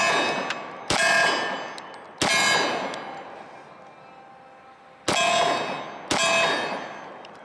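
Four sharp, loud reports from a Kahr Arms CM45 .45 pistol, each followed by a ringing metallic decay, fired at irregular intervals in an open setting with no talking.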